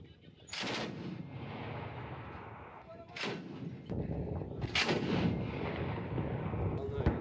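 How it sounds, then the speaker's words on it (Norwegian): Automatic weapons fire and grenade blasts in Afghanistan combat at night, several sharp cracks and booms spaced a few seconds apart over a rumbling background, fairly distant. "Plutselig blir vi beskutt med automatvåpen og granater."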